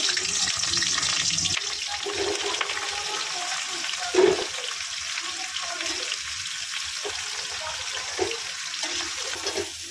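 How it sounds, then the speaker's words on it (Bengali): Cauliflower florets sizzle and crackle in hot oil in a home kitchen, a steady dense frying hiss with a louder spatter burst near the middle. "ফুলকপিগুলো আমি ভেজে নেবো"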